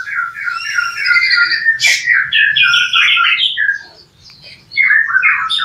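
A white-rumped shama sings brightly and variedly with rapid whistled phrases and squawky notes, loud and close, continuing with a brief dip near the end.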